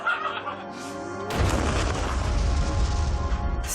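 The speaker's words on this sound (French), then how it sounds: "Ça, c'est ce qu'on appelle une explosion." Propane tank blowing up in a huge fireball: a sudden loud boom that cuts off a brief lead-in and rolls into a long, dense, rumbling roar that stays loud to the end.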